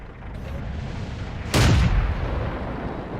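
A single loud tank cannon blast fired in a World of Tanks match, a sharp boom that rises abruptly over steady battle rumble and then decays slowly into the background.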